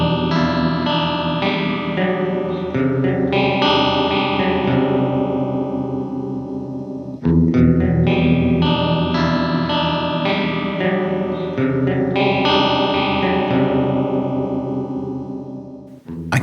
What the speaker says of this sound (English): Set the mode switch to dual mode, and this is called Deep Detune in the manual.